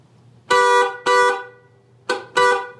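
A Mazda Miata horn honks four times, two long blasts, a pause, then a short toot and another long blast, loud and close.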